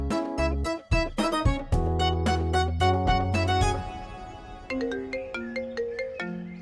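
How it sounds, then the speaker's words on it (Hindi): A musical phone ringtone plays loudly and clearly, a bright melodic tune that pauses briefly and then repeats its phrase. "इसका फोन आ गया।"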